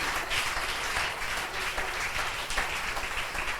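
A church congregation applauds in a dense, continuous round of clapping that stays steady and full throughout, with no speech over it.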